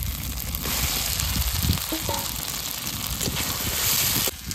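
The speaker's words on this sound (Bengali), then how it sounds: "ভাজা আলুগুলো দিয়ে দেবো এবার তেলের মধ্যে।" Fried potatoes dropped into hot oil with bay leaves, cumin and ginger paste set off a loud, steady sizzle that fills the whole stretch, with a few faint clinks of a utensil.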